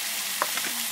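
Tomato, onion and garlic frying in a pan give a steady, close sizzle, broken by a few quick scraping stirs near the middle of the second.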